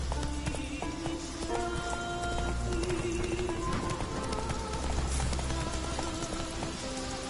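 Roach the horse gallops in The Witcher 3, rapid rhythmic hoofbeats running steadily throughout over game music and ambient noise, with faint speech beneath.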